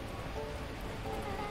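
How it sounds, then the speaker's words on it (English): Torrential rain pours steadily in the game Beacon Pines, a soft, even hiss of falling water at low volume, constant throughout with no breaks. "unleashing torrential rain"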